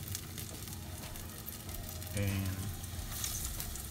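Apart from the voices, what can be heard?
patties shallow frying in hot oil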